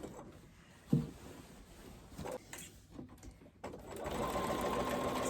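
A Bernina sewing machine straight-stitches quilt binding, its motor whirring in a steady close run that builds and holds louder toward the end, with a few small clicks and knocks of handling the fabric.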